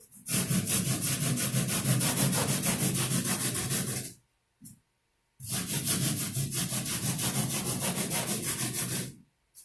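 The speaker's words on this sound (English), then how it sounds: "I gotta sand back like that." A car widebody panel being hand-sanded in two long bursts of rapid, rhythmic back-and-forth rasping, loud and close, separated by a brief pause.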